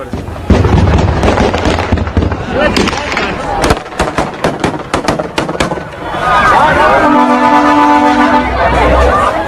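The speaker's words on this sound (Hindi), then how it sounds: "इस वीडियो में गोलियों की आवाज ऐसे सुनाई दे रही है जैसे आतिशबाजी हो रही है, नॉन स्टॉप सुनाई दे रही है।" Gunfire near Kabul airport, with rapid loud cracks in dense bursts like fireworks, heard amid crowd noise and shouting, with a steady tone in the later seconds.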